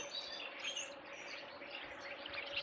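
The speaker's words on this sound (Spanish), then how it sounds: "Todo el ruido de los pájaros que escuchan son estos pájaros de aquí." A flock of birds chirps overhead outdoors, a busy overlapping chatter of high tweets that stays fairly faint and continuous, with no voices.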